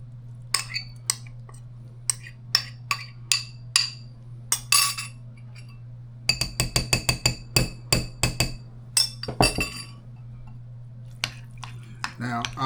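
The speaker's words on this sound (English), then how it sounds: "Now time to scoop in the tuna fish" A utensil scrapes and taps against a bowl while tuna fish is scooped for deviled eggs: sharp clinks and knocks, sparse at first, then a dense rapid cluster, over a steady low hum.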